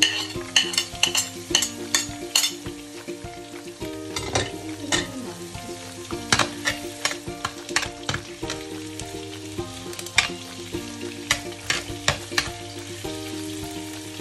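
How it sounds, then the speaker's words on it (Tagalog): Garlic fries in olive oil in a hot pan, giving a loud, continuous crackling sizzle with dense popping throughout, over a steady background of music. "mainit na yung pan natin. Nilagay na natin ang ating bawang."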